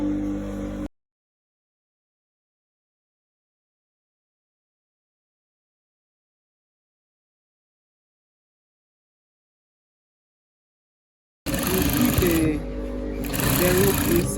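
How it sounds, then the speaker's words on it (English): A sewing machine stitches a fabric sleeve in a short burst near the start, then after a long silent gap runs again steadily and loudly at close range, with a rhythmic mechanical whir. "So let's go ahead and sew it and put it inside it."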